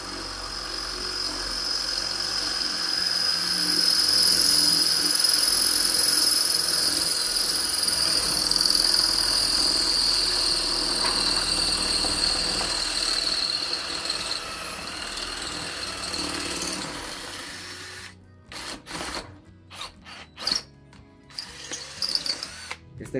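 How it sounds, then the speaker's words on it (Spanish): An INGCO drill driver at speed 2 bores into concrete with a 3/8-inch bit, giving a long, steady high-pitched whine that runs for about fifteen seconds and then breaks into short, stuttering bursts before stopping. "Vamos a perforar lo que es concreto en velocidad 2 con una broca de 3 octavos"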